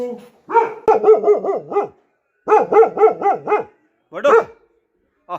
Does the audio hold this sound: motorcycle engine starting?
no